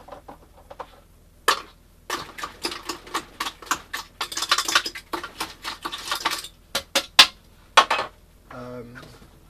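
Eggs are cracked and dropped into a bowl while a boilie base mix is started, giving a run of quick, close clicks, taps and light knocks against the bowl, busy in the middle and then tapering off.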